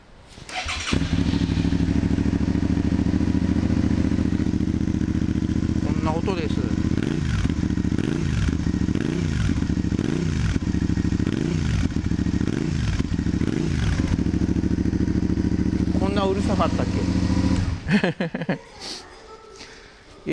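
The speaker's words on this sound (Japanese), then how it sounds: "よしではエンジンをかけてみましょう" Suzuki SV650 motorcycle fitted with an SP Tadao muffler starts up and settles into a loud, steady idle close by, with rhythmic throbbing pulses midway before cutting off near the end.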